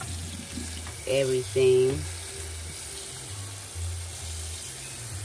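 Tap water runs steadily in a kitchen sink while juicer parts are rinsed, with a low hum throughout and a brief spoken word over the water.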